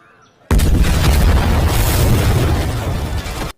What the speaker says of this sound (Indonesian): Tiba-tiba terjadi sebuah ledakan di kantor distrik Tiruvallur yang mengakibatkan 5 orang tewas